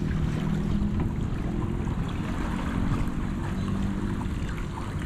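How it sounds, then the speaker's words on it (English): A small river boat's engine drones steadily while crossing a river at Kuching, Malaysia, a low continuous rumble with faint wind and splashing around it. "So Chung found her boat for us to cross the river."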